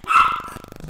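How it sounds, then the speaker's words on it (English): Big dogs give a single loud, close bark with a short growling tail, heard alone. "Big dogs barking."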